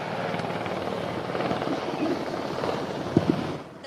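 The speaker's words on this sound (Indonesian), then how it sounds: "Ada 2 helikopter yang datang." Two helicopters arriving to land at the Central Java Military Academy in Magelang make a loud, steady rotor drone that fills the scene, with only brief faint bumps near the end.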